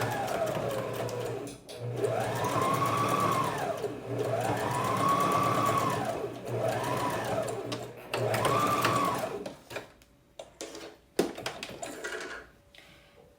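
An electric sewing machine runs in several sustained whirring bursts while stitching a French seam on a garment shoulder, with brief backstitch stops between, then scattered clicks and handling noises as it falls quiet near the end.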